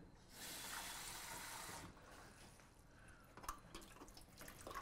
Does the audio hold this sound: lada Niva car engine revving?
no